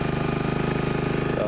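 A Honda HRX217HYA self-propelled lawn mower engine running on Honda small engine oil, a steady close rhythmic putter with fast regular pulses, loud and even throughout.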